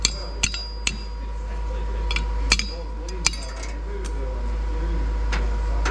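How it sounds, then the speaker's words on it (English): A handful of sharp metallic taps at irregular intervals, a chipping hammer knocking slag and dross off steel, over a steady low electrical hum. "this is just a chipping hammer"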